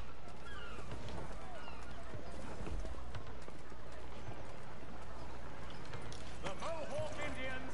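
Video game horse hoofbeats clip-clop steadily under ongoing talk, with a horse whinnying near the end.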